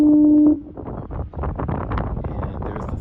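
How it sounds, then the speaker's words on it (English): A deep, steady foghorn blast from the Cape Enrage Lighthouse on the eastern Canadian coast sounds at the start, then cuts off, leaving strong gusty wind buffeting the microphone. "And there's the foghorn,"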